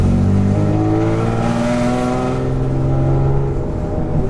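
A cammed FBO Nissan G35 revs hard, a loud close engine roar climbing and falling in pitch with a steady rough tone throughout.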